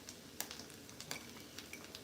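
Sticky rice cake with pork belly frying in a pan gives a steady, quiet sizzle with scattered small pops and crackles, close up and alone without talk.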